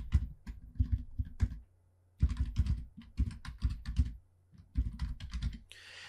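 Computer keyboard typing a folder name, fast close clatter in several bursts with short pauses between them.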